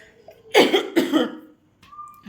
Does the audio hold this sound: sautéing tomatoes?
no